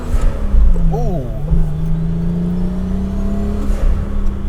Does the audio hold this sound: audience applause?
no